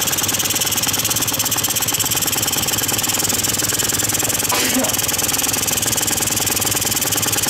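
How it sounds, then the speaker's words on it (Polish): A Quantum RS engine runs steadily nearby with a rough, knocking, tractor-like chug. It keeps one even level throughout, with a brief higher whine partway through. "ale na słuch ja słyszę, że ten silnik trochę lepiej chodzi"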